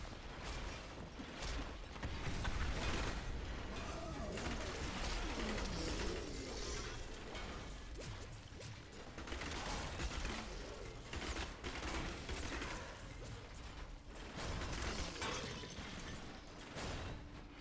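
Rapid, continuous streams of Demon Hunter Rapid Fire shots in Diablo 3, a dense mechanical clatter of projectiles sustained for the whole stretch, loud and busy with game effects layered underneath.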